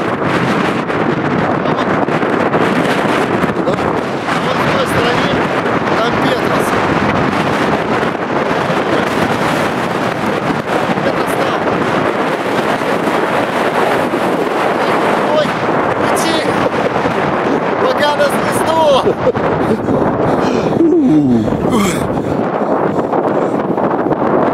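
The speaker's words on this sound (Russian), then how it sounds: "Тут очень сильный ветер, в итоге нас фактически сносит." Very strong wind on a mountain slope near Hoverla roars into the microphone, loud and constant with gusting buffets, and voices are partly heard beneath it.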